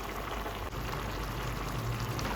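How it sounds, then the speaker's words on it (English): Palm oil egg stew sauce sizzles and bubbles steadily in a pot, a soft continuous crackle with no voices. "So we're just going to keep frying it"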